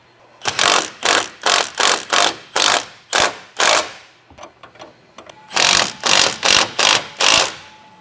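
A hand ratchet snugs up a bolt on an aftermarket upper control arm of a 2019+ GM 1500 truck. It clicks in loud, close bursts: about eight quick rapid strokes, a brief pause with faint ticks, then five more.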